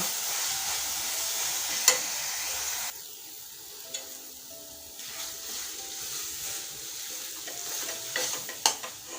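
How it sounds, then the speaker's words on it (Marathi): Grated coconut sautéing in a pan for coconut chikki makes a continuous soft sizzle, loud at first, then quieter and grainier, broken by a few sharp scrapes and taps of a spoon against the pan. "आपलं हे खोबरं व्यवस्थित परतून घ्यायचं आहे"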